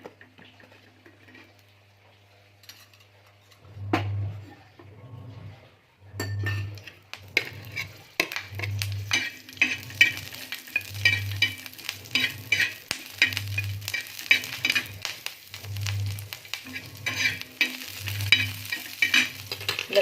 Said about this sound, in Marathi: आता आपण मिरची भाजून घेणार आहोत